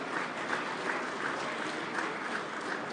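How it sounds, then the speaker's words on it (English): Steady, dense applause from an outdoor crowd at an off-road motorcycle racing awards event, a continuous wash of clapping that holds at an even level throughout without pauses. "Let's give them a big round of applause as well"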